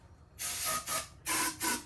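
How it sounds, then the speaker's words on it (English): Brake cleaner is sprayed on a 1978 Suzuki GS750 motorcycle in four short, sharp hissing bursts, close and fairly loud, with brief pauses between them. "Spray brake cleaner all over half of the"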